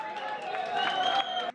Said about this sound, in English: Local Germans awaiting to receive those on board applaud.